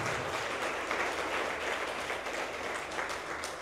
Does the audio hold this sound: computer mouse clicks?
no